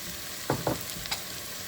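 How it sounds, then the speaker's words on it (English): Whole garlic goes into a pan of sizzling onions and carrots for a sweet potato red curry soup: a steady close frying hiss with a few soft drops and clatters as the garlic lands, and no talking. "So here we're going to add the garlic whole."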